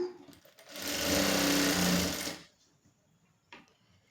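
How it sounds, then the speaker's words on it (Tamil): A sewing machine runs a loop-stitch test after its tension is adjusted, a loud close whirring burst of stitching lasting about a second and a half that ramps up and then stops, followed by a faint click and no talking. "இப்போ தைச்சு பார்ப்போம்."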